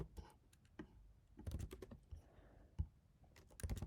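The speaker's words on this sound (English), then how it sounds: "I'm going to have to type this out over here" Bursts of rapid keystrokes on a computer keyboard, close and fairly quiet, coming in short irregular runs separated by brief pauses, with no voices.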